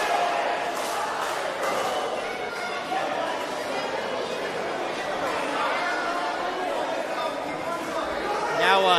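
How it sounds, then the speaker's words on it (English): A wrestling arena crowd chants and cheers continuously for the Rock 'n' Roll Express during a tag team match, a dense, loud roar of many voices filling the whole stretch. "Listen to this crowd chanting rock and roll."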